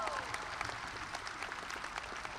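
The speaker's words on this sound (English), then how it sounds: "So let's give those kids a big round of applause." Applause for graduates at an early college graduation ceremony, a continuous crowd of hands clapping at a fairly low, distant level, with a brief voice at the start.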